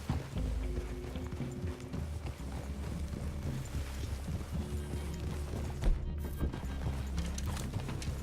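Horses' hooves clip-clop steadily through a forest clearing in the Red Dead Redemption 2 video game, a continuous trotting rhythm under low ambient rumble, with a brief louder thump near the end.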